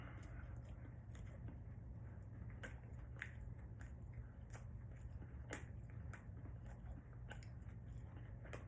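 Chewing on a bite of chewy, cheap steak, with soft repeated mastication sounds over a steady low hum, close to the mouth.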